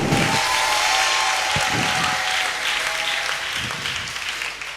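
A church congregation applauds and acclaims Jesus: dense, sustained clapping and cheering from a large crowd fills the space throughout, with a few voices shouting over the din.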